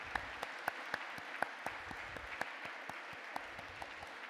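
Quiet applause for Maria, who made cartoons, at a live-streamed session, with a thin scattering of distinct claps at an uneven rhythm, faint and somewhat distant.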